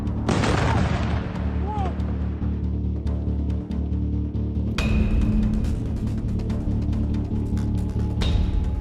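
Missile strikes and explosions in Israel erupt as a loud blast with crackling debris, followed by a quieter rumbling stretch and a second sharp, heavy burst around midway, with faint voices in the background.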